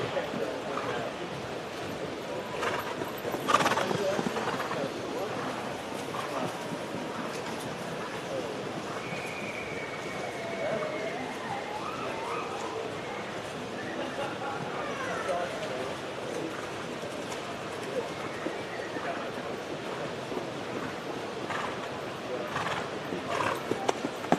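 Horses at a breeders' showcase for mares and stallions move and call around an arena, with faint hoof clip-clops and an occasional whinny under continuous announcer talk and crowd murmur.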